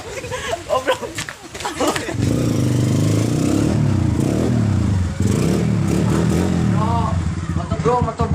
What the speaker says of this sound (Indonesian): Motor baru ini, bro.